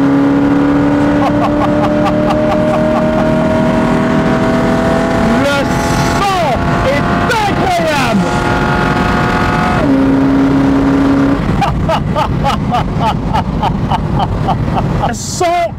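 A 1973 Chevrolet Corvette 454 accelerating hard, its big V8 roaring up through the revs with distinct gear changes and sweeping pitch rises, loud and close from inside the car, with a voice talking over it.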